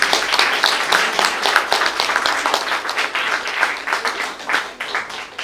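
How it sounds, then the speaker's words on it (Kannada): An audience claps together at the inauguration of an art gallery and painting exhibition, giving sustained, fairly close applause with distinct individual claps running throughout. "ಎಲ್ಲರೂ ಒಟ್ಟಿಗೆ ಚಪ್ಪಾಳೆ ಹೊಡೆಯುವ"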